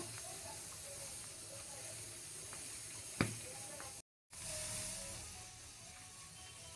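An eggplant roasts over a low gas flame and is turned all around. A faint, steady hiss runs underneath, with a single short click partway through.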